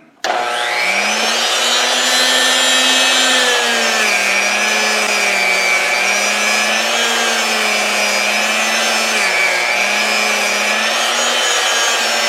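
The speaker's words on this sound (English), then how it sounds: "weapon of choice is going to be a larger stainless steel wire wheel, and we're just going to hit it up and get the whole thing" A large stainless steel wire wheel on a power tool scrubs metal in one long, steady, loud whine with a constant low hum, running alone without pause for the whole stretch.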